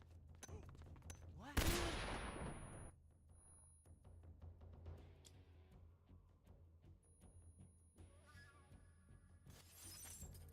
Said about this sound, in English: I'm going to instantly throw a stun grenade through the window